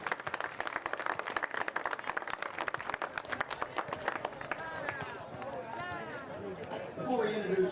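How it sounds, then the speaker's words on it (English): Crowd applause and clapping from spectators at a boys' soccer senior night ceremony, steady and sustained across the clip, with a voice rising near the end. "Please give them a round of applause"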